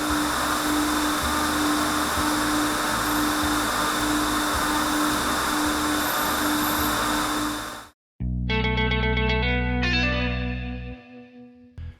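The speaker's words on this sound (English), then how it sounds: "So we're going to vacuum one last time." A vacuum cleaner on a sanded wood floor drones steadily with a low motor hum for about eight seconds, then cuts out and music with sustained notes follows.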